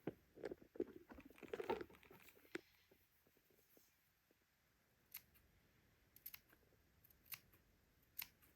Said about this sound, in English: just with my embroidery scissors, I'm going to cut a little notch about every 3/8 of an inch